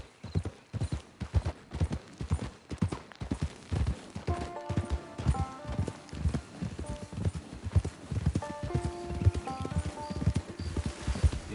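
Horse hooves clip-clop at a steady walking rhythm in Red Dead Online, close and continuous across the stretch, with faint background tones layered beneath.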